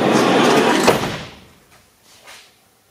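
Sliding door on a Ram ProMaster van failing to close, a loud rolling rumble ending in a thump, then fading, followed by a softer second bump.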